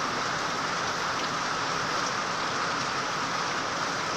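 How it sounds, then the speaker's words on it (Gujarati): Heavy rain pours steadily over a village, a dense, even hiss of drops hitting surfaces that holds constant and close throughout with no voices. "જો ફૂલ વરસાદ ચાલુ છે."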